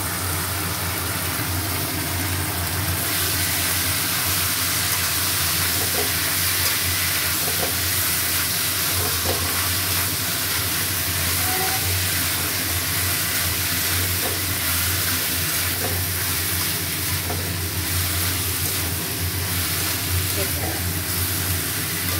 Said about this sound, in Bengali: এবারে বাঁধাকপি দিচ্ছি